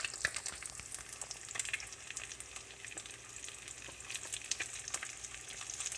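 Eggs frying over medium in a pan alongside bacon, a steady bright crackling sizzle with scattered pops running continuously and fairly close, no talking.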